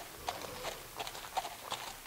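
An eight-year-old German horse walks with clear clip-clop hoofbeats, several evenly spaced strikes close by over a quiet background.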